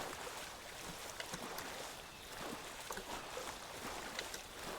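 Slow-moving boat gliding through water in Metal Gear Solid Snake Eater, a steady low wash of water and hull noise with faint splashes, moderately quiet and continuous with no talking.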